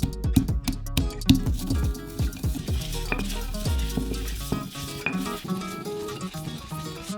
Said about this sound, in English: Next, we add chlorella, a green algae that comes in tablet form. We crush it into powder.